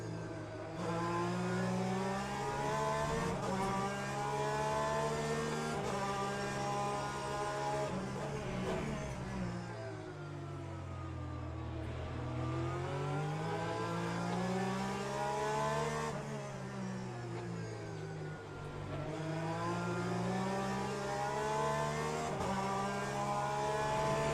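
Le Mans Ultimate race car engine in a sim racing game, a loud sustained whine that climbs and drops through gear changes and braking, continuous across the stretch with no voices over it.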